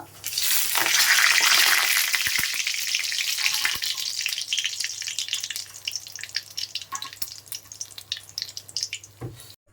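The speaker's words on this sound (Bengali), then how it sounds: "ওই তেলে একটু সামান্য পরিমাণে জিরা ফোড়ন" Loud sizzling of cumin, bay leaf, cinnamon, cloves and chilli dropped into hot oil, a burst of crackle that settles into steady frying with occasional pops and clinks.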